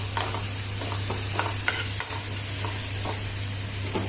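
Onion and tomato fry steadily in a pan, a continuous close sizzle with occasional soft stirring scrapes and small clinks throughout.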